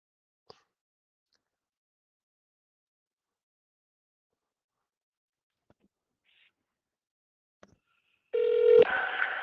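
A phone dials a number in a quiet setting, with a few faint isolated taps and then a short loud burst of tones near the end.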